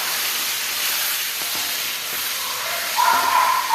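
Masala of Kashmiri chili powder and coriander powder sautéing in oil for chicken thokku, a steady broadband hiss of sizzling with faint clinks of a spoon against the pan, close and continuous.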